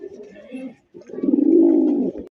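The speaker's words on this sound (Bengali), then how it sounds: "বন্ধুরা এখানে একজোড়া রাসগোল্লা কবুতর আছে" A pair of Rasgolla pigeons coo nearby, a short rolling coo followed by a longer, swelling, drawn-out coo that ends abruptly.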